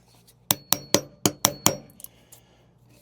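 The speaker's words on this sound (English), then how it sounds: "So first you gotta use a chisel" A steel chisel struck six times in quick, even succession as it is worked around a buried nail in a wooden slab, sharp close metallic taps, followed by a couple of fainter knocks.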